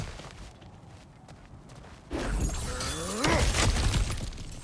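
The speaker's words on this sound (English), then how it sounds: "back to smashing through things for fun and profit" Kratos smashes through cracked ground in God of War Ragnarok, a loud sudden crash of breaking rock and debris partway through, followed by crumbling, shattering rubble over a low rumble.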